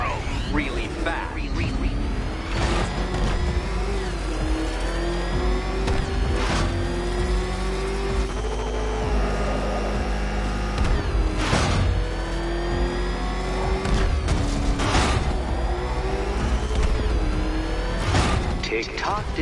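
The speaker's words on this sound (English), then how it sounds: "There's more to the test than just going vroom, vroom really fast." Batmobile engine in Batman: Arkham Knight, a sustained powerful drone rising and falling through repeated revs over nearly twenty seconds, with a voice speaking over the engine in places.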